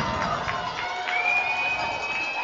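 A crowd at a women's rugby national championship game, Laval against Queen's, cheers and whoops in a sustained distant roar, with whistles and shouts rising over the din.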